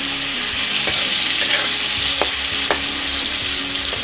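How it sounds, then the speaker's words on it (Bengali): Chopped onions fry in oil in a pan, a steady close sizzle with occasional sharp crackles and spatters, no voices over it. "পেঁয়াজটা আমি 2-3 সেকেন্ডের মতো ভালোভাবে লাল করে ভেজে নেব।"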